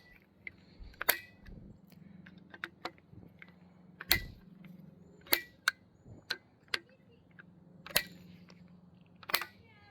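A torque tool clicks over repeatedly while rifle scope mount screws are tightened, giving sharp, close, irregularly spaced clicks against a quiet background.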